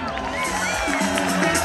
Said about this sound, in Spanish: Quiero también que le brindemos un aplauso grande a Disley,